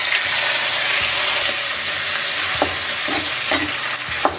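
Ground mango chutney hitting a hot tempering of oil, mustard seeds, urad dal and curry leaves, a loud, dense sizzle with scattered spoon scrapes and taps against the pan, close and without speech.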